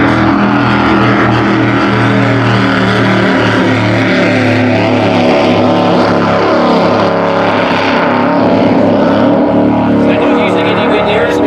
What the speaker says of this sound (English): Listen to the difference in the sound of a Team 3 with the 525 Mercury.